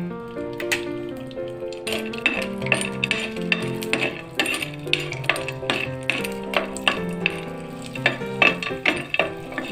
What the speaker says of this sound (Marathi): आपल्याला इथे डिंक जो आहे तो तळून घ्यायचा आहे